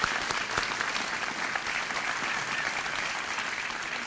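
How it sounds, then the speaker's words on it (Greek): An audience at a Chicago lecture honoring Ioannis Kapodistrias breaks into sustained applause, a thick steady patter of many hands that holds level for several seconds with no one speaking. "Ένα χειροκρότημα για τον κύριο Γενικέ."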